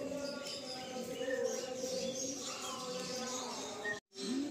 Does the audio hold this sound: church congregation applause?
no